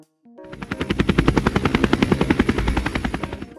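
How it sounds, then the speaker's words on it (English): A helicopter sound effect starts with a brief click, then rises into a loud, rapid, evenly pulsing rotor chop that holds steady to the end. "This is a helicopter. What sound does a helicopter make?"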